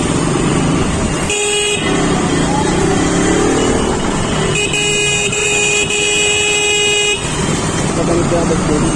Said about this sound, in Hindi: यहाँ पे जो है ना काफ़ी सारा ट्रैफिक है।